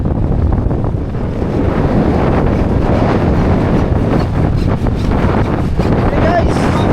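Strong northeast monsoon wind sweeps across a coastline, roaring and buffeting the microphone without pause for the whole stretch, loud and broadband with a possible wash of surf underneath.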